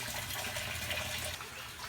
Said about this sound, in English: hopefully that'll minimize the blast of water